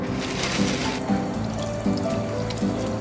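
Saury fish washed under a running kitchen tap, a close, continuous splash and gurgle of water in a sink with light, rhythmic pulses as the fish is handled.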